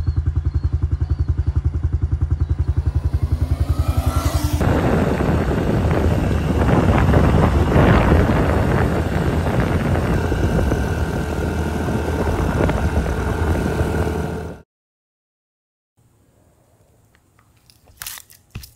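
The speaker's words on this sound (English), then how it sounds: "We're gonna take off tonight on the bikes." A 110 motorbike engine runs close by, a steady buzzing drone that swells and roughens as the bike pulls away, with wind rumble mixed in. It cuts off abruptly after fourteen seconds, leaving faint sounds.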